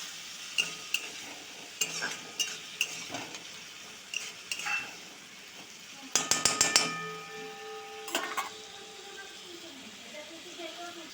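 Spiced masala being stirred into potatoes in a pan for a banana-flower and shrimp curry, with repeated spoon scrapes and clinks against the pan and a brief cluster of sharper metal taps midway, over a soft background sizzle.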